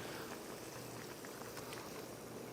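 A mala soup with fish cakes, tofu, bamboo shoots and seafood bubbles in a pot, a faint, steady simmering hiss with soft popping bubbles and no speech.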